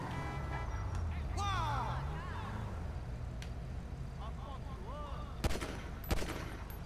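Two sharp gunshots in a video game ring out late, loud against a steady background of game ambience and engine rumble, with voices talking earlier.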